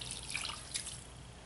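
Water splashing and trickling as it is poured into a candy-board mixture, a soft continuous stream with a couple of brighter splashes, close and quiet.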